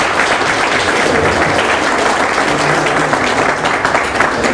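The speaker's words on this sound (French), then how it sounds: "Donc vraiment je demande qu'on l'acclame." Audience applause at a gathering about the Ivory Coast post-electoral crisis, held in New Jersey: loud, sustained clapping from a crowd, steady and dense throughout.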